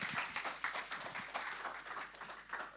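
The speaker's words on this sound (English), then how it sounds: "So some warm applause for the APIGEE team and Temenos" A workshop audience gives a short round of applause, fairly faint and distant, with scattered clapping rising and fading over a few seconds.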